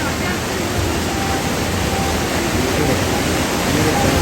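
Bhatta Falls in Uttarakhand pours in a dense, constant roar of rushing water, loud and broadband without a break, with no clear voices over it.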